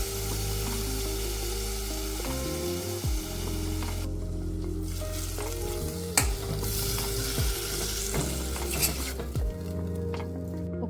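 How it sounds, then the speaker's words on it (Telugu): Marinated vegetables hit onions in a pot for a Hyderabadi vegetable dum biryani, sizzling steadily up close. A metal spoon clinks and scrapes against the pot at repeated intervals as the mixture is stirred, with no talk. "కొన్ని ఆనియన్స్ని గిన్నెలోనే ఉంచుకొని మ్యారినేట్ చేసి పెట్టుకున్న వెజిటేబుల్స్ని వేసుకుందాం"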